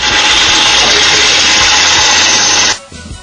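A NOVA DVR XP wood lathe spins at high speed with a steady loud whirring hiss, then abruptly winds down near the end.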